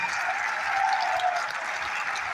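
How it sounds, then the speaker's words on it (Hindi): A crowd claps at a business seminar, giving a steady, moderately loud wash of many hands with a faint tonal hum running under it and no speech. "खोल के तालियां बजा सकते हैं आप"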